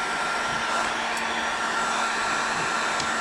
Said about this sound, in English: Grab our heat gun, get that hose nice and malleable